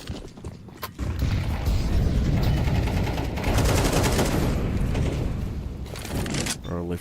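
Bursts of gunfire from a first-person shooter video game match during a European Pro League esports broadcast crackle densely and continuously, with a quieter stretch before the shooting picks up and a commentator's voice under the action.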